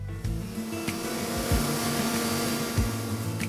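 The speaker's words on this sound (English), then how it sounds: "On this first CNC milling machine, the 1/8" blocks are milled out of aluminum." A CNC milling machine cuts 1/8-inch aluminum setup blocks, giving a steady, loud mechanical whir with a sustained tonal hum and a few brief knocks throughout.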